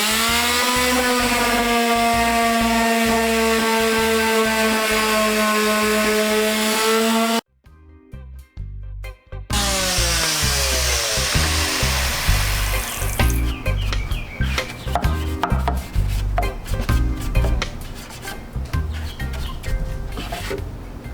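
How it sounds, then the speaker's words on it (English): Dowel rod being sanded with 80 grit sandpaper while building a DIY TV console, a steady loud whirring tone broken by a brief pause, then rougher, uneven scraping and buzzing continuing to the end. "you got to sand out the dowel rod, so I'm just going to take some 80 grit sandpaper and go to town"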